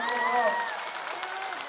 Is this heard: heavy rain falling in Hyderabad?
no